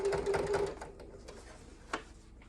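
A sewing machine back stitches along a fabric edge in a short, close mechanical whir, then fades into quiet handling noises with a soft click.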